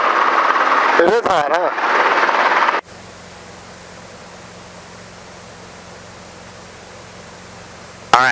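Helicopter hover taxiing during a flight lesson: a loud broadband rotor and engine roar under a brief spoken remark, then a steadier, quieter droning hum with a low tonal whine that holds for several seconds.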